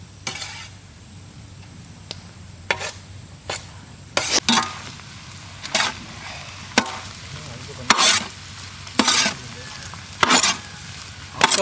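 Chicken hearts frying with curry leaves in a large pan at an outdoor village cooking setup, a steady sizzle broken by repeated sharp scraping and clanking strokes of a stirring utensil against metal.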